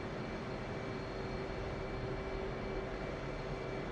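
An F/A-18 jet engine in DCS World runs up as the throttle is eased forward, a steady, faint roaring whine with a constant hum underneath and no talk over it.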